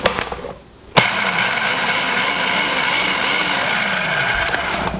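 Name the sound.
food processor pulsing dry pie crust ingredients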